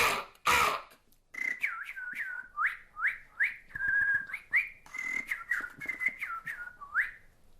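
A person whistles a rapid series of short, chirpy bird-like trills by mouth, imitating birdsong. The notes come in quick bursts after a brief noisy start.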